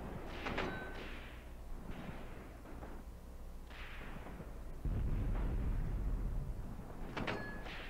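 Heavy explosions from an artillery-style shell bursting in the air during a Graviteam Tactics battle, with several dull thuds and a stronger low boom near the middle, set against constant rumbling combat noise and faint distant crackles.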